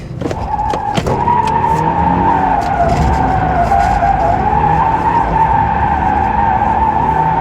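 A 2024 Toyota GR86 slides in an e-brake-initiated drift around a cone, its tires squealing loudly and steadily for several seconds over engine noise.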